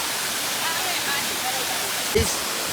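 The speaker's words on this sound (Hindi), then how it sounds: "और ये रहा वाटरफॉल" Satkunda Waterfall in a jungle setting, a loud steady broadband roar of falling water filling the scene, with a brief thump near the end.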